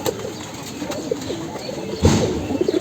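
Several pigeons coo in a loft, with one fine male among them. The soft, low throaty calls repeat close by at a steady level, and there is a slightly louder burst of activity partway through.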